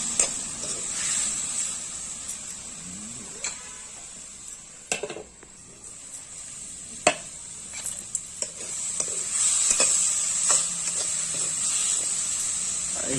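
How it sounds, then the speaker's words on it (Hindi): Chilli and spices are frying in oil in a pan for a Chhattisgarh-style fish recipe. There is a steady hiss and sizzle, broken by sharp clinks and scrapes of a spoon against the pan, with no talking. "बढ़िया से भून देते हैं।"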